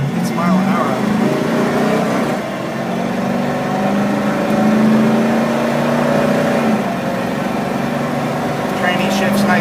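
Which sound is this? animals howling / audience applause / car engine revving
car engine revving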